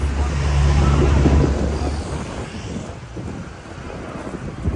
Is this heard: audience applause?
no